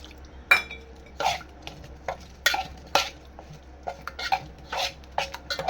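Repeated wet scraping and clinking of a spoon stirring ridge gourd dosa batter in a bowl, in irregular strokes at close range.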